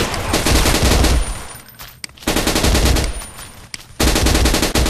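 Rapid automatic gunfire in Blockade 3D, loud and close, pouring out in three long sustained bursts separated by brief pauses.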